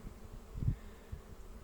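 Honeybees buzzing around a hive frame during a hive inspection: a faint, low hum that swells briefly near the middle and then settles back into quiet background noise.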